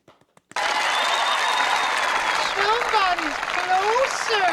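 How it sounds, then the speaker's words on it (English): Crowd applause for PSE carbon bows at an archery gathering bursts in after a brief quiet start and holds steady and loud, with rising whistles and whoops over the clapping. "PSE, once again, hand clap."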